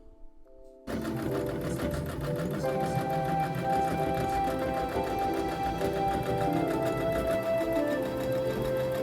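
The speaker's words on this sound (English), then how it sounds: "So I just finished sewing the 2 halves of the quilt together." A sewing machine starts abruptly after a brief quiet moment and runs at a fast, even, rattling pace as it stitches two halves of a quilt together, loud and close with no talking.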